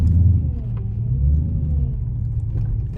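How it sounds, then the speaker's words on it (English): A supercharged car engine accelerating, a steady low rumble building close by with a faint rising whine, heard alone without talk. "Y'all know y'all heard that supercharger."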